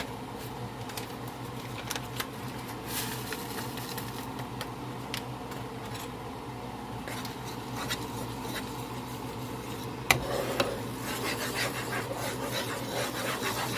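Spoon scraping and stirring seasonings and onion soup mix into a large pot for smothered pork chop gravy, a steady close rasping and rubbing with a few light knocks against the pot.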